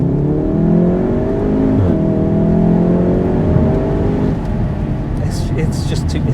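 An engine pulls hard from inside the car, its pitch climbing steadily through the gears, with a brief voice near the end.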